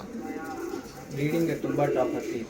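Girebaaz pigeons give a low, throaty coo that swells in the second half, close by, with someone talking at the same time.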